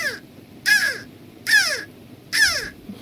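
A human voice imitates a crow cawing, giving three loud, close, harsh caws evenly spaced about a second apart, each with a descending, scratchy tail.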